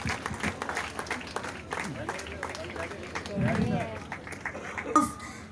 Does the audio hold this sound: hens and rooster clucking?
no